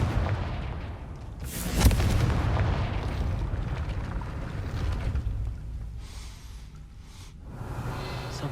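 Fire spell explosion in the game Hogwarts Legacy, a sudden loud blast that leaves a rumbling, crackling roar rolling on for several seconds before easing and swelling again.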